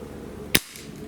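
A single sharp, close crack from a Webley MKVI 4.5 mm CO2 pellet pistol firing, a brief snappy report over a quiet room hum, no talking.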